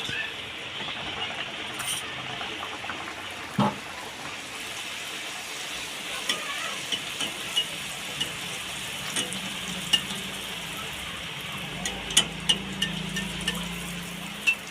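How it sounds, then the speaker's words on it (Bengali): Continuous crackling sizzle of chickpea dal kachoris frying in hot oil in a wok, steady and close, with occasional light clinks of a utensil. "কড়াইয়ের তেল গরম হয়ে গেছে আমি কচুরিগুলো ছেড়ে দিই"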